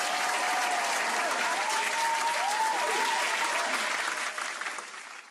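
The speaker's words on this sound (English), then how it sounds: "Round of applause for everyone involved." A crowd claps in a sustained round of applause at a football preview show, dense and steady before tapering off at the end, with a voice faintly audible underneath.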